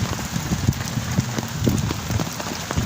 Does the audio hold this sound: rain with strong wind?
yes